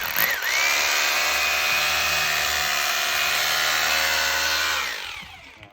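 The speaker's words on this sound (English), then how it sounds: "we need to drill some holes in the batten so you can take a screw to bolt onto the wall" A power drill whines at a steady high pitch, boring continuously through a wooden batten for several seconds before spinning down and stopping.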